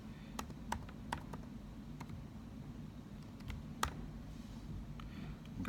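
A Wi-Fi password is typed on the keyboard of a new 15-inch Apple MacBook Pro 2016, giving quiet, close key taps in an irregular run over a faint room hum.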